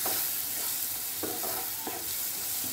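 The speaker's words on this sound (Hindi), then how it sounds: "यहाँ पर मैं टोमेटो ऐड कर दूँगी, इसे मिक्स कर देंगे।" Tomato being stirred into spices frying in a pan over low-to-medium flame for vegetable dalia pulao, a steady sizzle with a few soft scraping strokes from the spoon, close and continuous with no talking.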